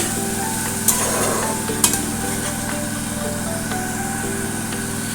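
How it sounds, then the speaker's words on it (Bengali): Green chillies, seven or eight, frying in a pan for a Bengali-style dry fish dish, stirred so they sizzle steadily with a couple of sharper scrapes of the spoon, alongside a constant low engine-like hum. "এবার দিয়ে দিচ্ছি 7 থেকে 8টার মতো কাঁচা লঙ্কা।"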